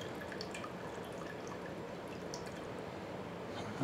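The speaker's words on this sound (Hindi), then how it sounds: "जितनी देर तक ये बह रहा है इसको पूरा अच्छे से पानी को निकाल लेंगे" Water draining and dripping steadily from cooked mutton being strained out of a pressure cooker in a kitchen, a constant soft trickle with scattered light drips, even in level throughout and free of talk.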